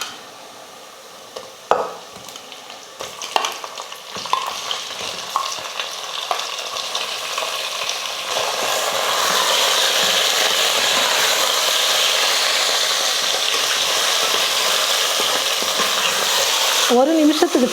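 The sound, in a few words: chicken sautéing in oil for biryani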